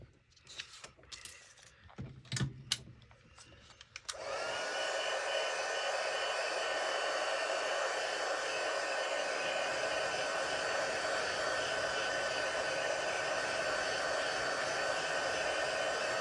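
A hair dryer blows over freshly painted journal tags, starting after a few seconds of light handling clicks and then whirring as a loud, steady, unbroken hiss close by.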